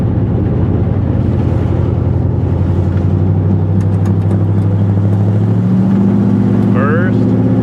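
A 1957 Chevy's engine runs steadily as the car drives, a loud, continuous low rumble throughout, with voices talking over it and a brief higher squeal near the end.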